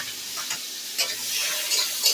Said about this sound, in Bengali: 5 ফোড়ন আর এই পেঁয়াজ একসঙ্গে আমি ভালো করে একটু ভেজে নেব।